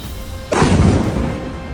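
Missile strike explosion bursting suddenly after a half second of quiet low hum, a loud close boom with a roaring broadband blast that decays slowly and heavily.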